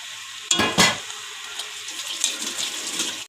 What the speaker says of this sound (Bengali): এদিকে বড়া ভাজা হচ্ছে